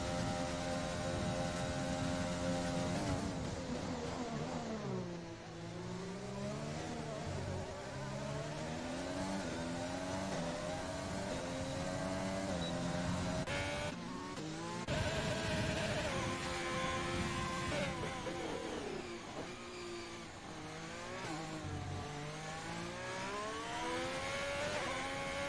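Race car engines in a PC racing game on the Japan GP circuit, several cars revving and shifting with rising, falling whines that layer and pass continuously and loudly.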